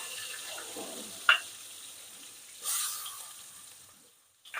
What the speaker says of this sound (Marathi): हिरवी मिरची टाकली कढीलिंब टाकला